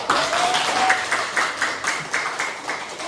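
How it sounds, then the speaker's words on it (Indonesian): A classroom of students gives a group steady applause, a moderate-level patter of many hands with faint tonal traces early on and no clear talk. "Kita kasih tepuk tangan dulu untuk yang maju."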